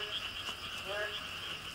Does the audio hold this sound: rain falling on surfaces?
no